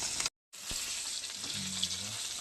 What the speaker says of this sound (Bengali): আবার এক খোলা মাছ দিয়ে দেবে কড়াইতে, ভাজা হচ্ছে